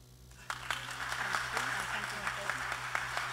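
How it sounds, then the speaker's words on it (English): An audience at a London National Park City summer talk breaks into applause. The clapping begins abruptly after a quiet moment and carries on as a moderate, steady patter over a low room hum. "So please, a round of applause for Ma."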